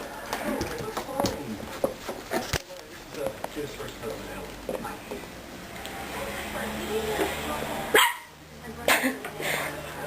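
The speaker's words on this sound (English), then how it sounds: "He's just discovered his bark yesterday." Young puppy giving short, high yaps and barks scattered through the clip, close by, with people talking over much of it and a brief loud burst near the end.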